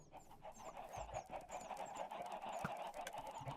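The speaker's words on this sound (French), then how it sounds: "Les poules font tellement de bruit." Chickens cluck in the Minecraft video game, a run of short, repeated squawks and chirps over a steady game backdrop, moderately loud with no talk.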